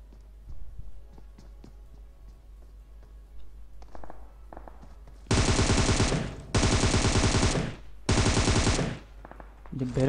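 Gunfire in a shooter video game: after quieter footsteps and scattered shots, three long, loud bursts of rapid automatic fire, close by, with a short pause between each and another burst starting at the end.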